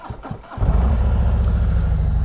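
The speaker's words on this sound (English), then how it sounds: "fire the bike up, get down the road" A Harley-Davidson Road King Special motorcycle engine cranks briefly, then catches and settles into a deep, loud, steady idle rumble close to the listener.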